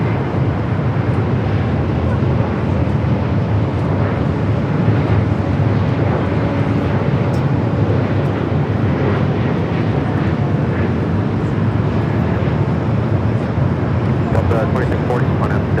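An Alaska Horizon airplane arriving at LAX gives off a loud, steady roar lasting about sixteen seconds, with broad rumbling jet noise and wind buffeting and no clear rise or fall.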